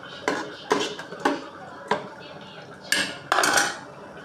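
Shrimp curry stirred in a cooking pot, a run of sharp metallic clanks and scrapes from a utensil against the pot, about seven distinct strikes in close, irregular bursts.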